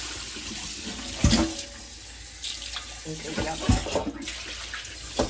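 A large soup pot is washed under a running kitchen tap, a steady moderate gush of water with clanks and knocks of the pot against the sink and short splashy bursts.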